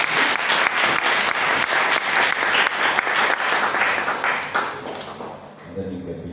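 Audience applause with cheering fills the space as a dense, steady wash of clapping at an event, loud throughout and tapering off near the end.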